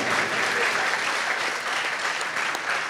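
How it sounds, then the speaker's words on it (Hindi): A seated audience at a Hindi comic poetry gathering held at an IIT claps steadily and densely, a continuous roar of hands that holds evenly from start to finish. "बार अपने लिए आप तालियां बजा दीजिए।"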